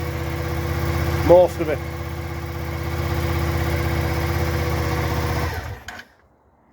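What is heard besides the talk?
Suzuki SV650 motorcycle engine idling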